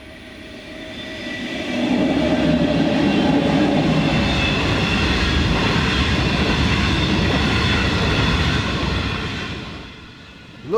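A coal freight train rumbles past at close range, its steady roar building up, holding for several seconds, then fading away, with a brief clank at the end.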